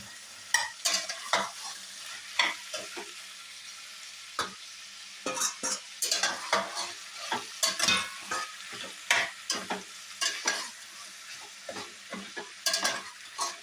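Mixed vegetables with frozen peas and ginger garlic paste fry in a pot for veg dum biryani, repeated scraping stirs of a spoon over a low sizzle, fairly close and rhythmic, no talking.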